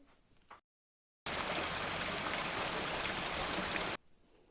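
A steady, dense hiss of rain pours down evenly for a few seconds, cutting in and out abruptly.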